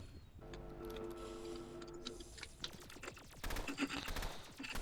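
Rapid gunfire in a competitive shooter game, including a minigun, as dense bursts of sharp shots and clattering rattles layered over tonal game sounds, close and busy throughout with no talk over it.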